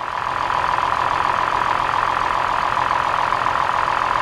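A car engine idles during a misfire power balance test with one ignition coil unplugged, a loud, close, steady rumble with a faint uneven pulse and no speech.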